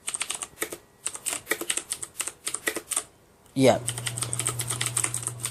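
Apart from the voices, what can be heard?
typing on CM Storm Quickfire Rapid mechanical keyboard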